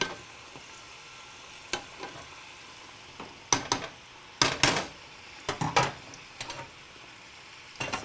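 Samosas fry in a pan, with a faint sizzle underneath and sharp clicks and scrapes of turning them in bursts, clustered in the latter half.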